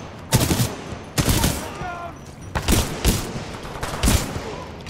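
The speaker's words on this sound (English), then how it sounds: "This, ladies and gentlemen, is why we like the shotguns." Shotgun blasts in the video game Titanfall 2, about five heavy booming shots at uneven intervals, loud and close, with brief game sounds between them.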